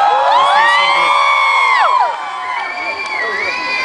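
A crowd at a fair, a mela, cheering and whooping loudly and close, with overlapping shouts and children's voices blending into one continuous roar that eases slightly toward the end.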